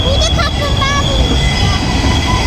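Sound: tram approaching on tracks

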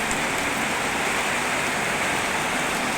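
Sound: rain falling

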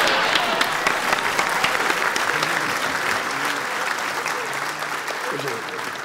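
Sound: audience applause

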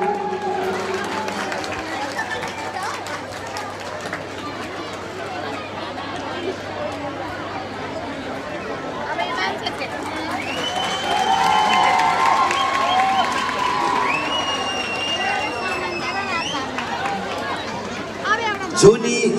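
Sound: large crowd chattering and cheering at a live program

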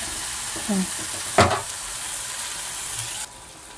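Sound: eggplant, tomato and onion frying in a pan

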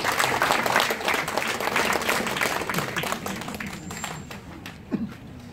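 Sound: audience applause welcoming speaker at club ceremony

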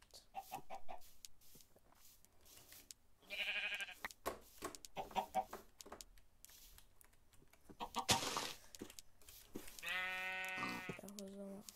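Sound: chickens clucking in Minecraft video game

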